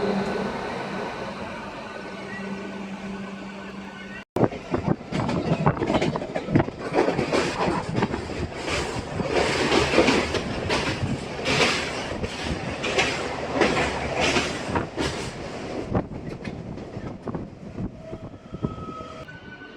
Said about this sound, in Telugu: WAG9 HC Rourkela locomotive.